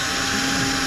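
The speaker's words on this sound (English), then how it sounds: "So I'm gonna drill it out, center it out." A power drill whirs steadily while boring into a carbon fiber front fender on a C6 Corvette widebody, a brief, close, continuous whine with no pauses.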